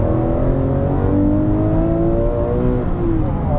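A Porsche 996 GT3 accelerating hard, its engine note climbing steadily through the revs in a sustained, rising howl heard from inside the car, with no talking.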